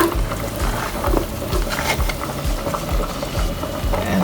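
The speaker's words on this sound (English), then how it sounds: "So this olive oil, I'm going to add the onions" Onions sautéing in olive oil for a minestrone soup, giving a steady, fairly loud hiss and crackle of frying with low rumbling underneath, continuous throughout.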